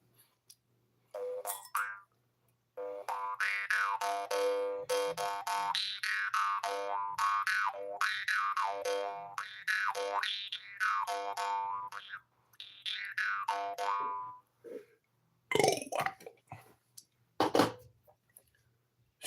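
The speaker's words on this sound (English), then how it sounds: "Oh, it's called the doing doing. It's called the Jew harp" A Jew's harp twangs in a run of bouncy, boinging notes with wobbling pitch, played close and alone for most of the passage, followed by a few short rougher sounds at the end.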